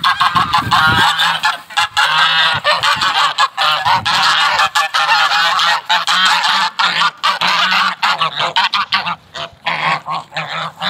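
A flock of domestic geese honks continuously and loudly at close range, many overlapping calls forming a dense, raucous chorus with brief lulls, kept as farm poultry and being fed.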